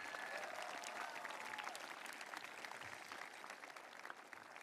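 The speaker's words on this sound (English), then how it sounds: "Can we just have a round of applause for all of our student speakers today?" Graduation ceremony audience applauding student speakers, a dense, steady wash of many hands clapping at a distance that fades slightly toward the end.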